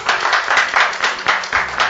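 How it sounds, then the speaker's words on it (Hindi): An audience at a Diwali poetry gathering claps steadily, a dense burst of applause from a crowd that stays loud and even throughout. "एक बार फिर से जोरदार तालियां।"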